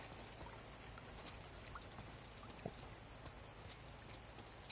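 Steady rain in The Last of Us Part II on PS4, a dense even hiss of falling drops with faint patters on surfaces, continuous and fairly quiet with no talk.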